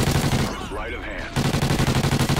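Rapid-fire gunfire from a golden Ripper in Call of Duty: Ghosts online play, a dense run of fast repeated shots that briefly drops out under a voice, then resumes at full rate.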